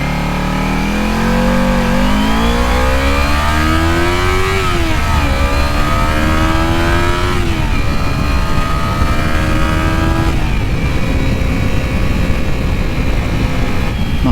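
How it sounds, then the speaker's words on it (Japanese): Kawasaki Z250 motorcycle engine revving hard through the gears on an aggressive high-rpm start, pitch climbing in repeated rising sweeps that drop at each shift, loud and continuous for the whole stretch. "発進してみましょうか。 いきり発車、"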